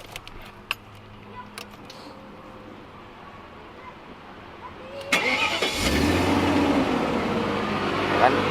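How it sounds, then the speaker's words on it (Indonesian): Quiet background with a few small knocks, then a BMW 735iL engine cranks and catches, settling into a steady rumbling idle. "Kan yang barusan suara motor ya."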